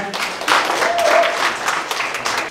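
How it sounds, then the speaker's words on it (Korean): A crowd at a native seed festival in Namhae, South Korea claps in a lively burst of applause that holds steady for a couple of seconds, with no one speaking over it. "힘찬 박수로 부탁드립니다"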